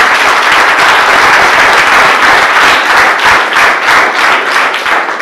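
Sustained audience applause fills a personality-development training session at Ranganatha PU College in Hosadurga, dense steady clapping from many hands holding at full level throughout with no talk over it.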